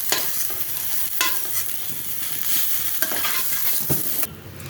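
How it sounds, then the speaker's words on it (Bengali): Soybean chunks frying in a pan, loud continuous sizzling with repeated scraping and stirring knocks close by, easing off near the end. "সোয়াবিনগুলো লাল লাল করে একদম দেখুন লাল লাল হয়ে গেছে, সবগুলো ভেজে নিয়েছে একদম।"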